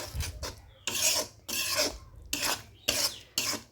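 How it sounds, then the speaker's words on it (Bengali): Seven or so rhythmic rasping scrapes of a spoon against the pot as blended onion paste is stirred into a country-chicken curry, close and moderately loud with brief gaps between strokes, no talking. "এখন ভালো করে আবার মিশিয়ে দিচ্ছি"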